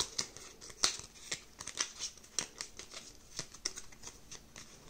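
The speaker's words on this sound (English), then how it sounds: "And then we shuffle these cards." Quiet, close crisp flicking and riffling of cards in a quick irregular rhythm, no voices.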